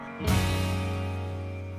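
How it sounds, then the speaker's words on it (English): A VST pump starts up and runs with a steady mechanical hum and drone, constant and close, then cuts off near the end. "you hear is it's a VST pump running"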